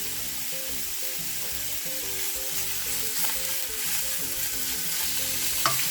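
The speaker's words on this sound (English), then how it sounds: "in a hot pot I'm going to add some roasted sesame oil, and first I'm going to add the beef if you use, or pork if you use." Beef or pork sizzles in roasted sesame oil in a hot pot, cooked as the start of a Japanese tonjiru pork soup. The frying hiss is steady and close throughout, with no talking.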